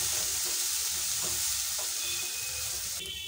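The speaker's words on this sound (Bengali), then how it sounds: "এবার আর কিছুক্ষণ কষিয়ে নেব। যতক্ষণ মশলা থেকে তেল ছেড়ে না দিচ্ছে ততক্ষণ আমি মশলাটা কষাতে থাকবো।" Spice paste fries in oil while being stirred, a steady close sizzle with faint scraping strokes running throughout.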